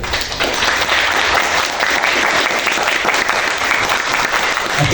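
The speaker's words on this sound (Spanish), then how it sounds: "les pedimos nuevamente fuertes aplausos" A conference audience delivers loud, steady applause for the speakers at the close of a literature lecture, dense and close, continuing evenly throughout without talking.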